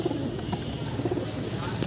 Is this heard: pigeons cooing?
yes